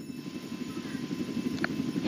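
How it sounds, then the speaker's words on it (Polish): A helicopter in the Roblox game Jailbreak gives a steady rhythmic rotor thump, fairly loud and continuous, with a brief higher tone near the end. "Oj, helikopter zabrali."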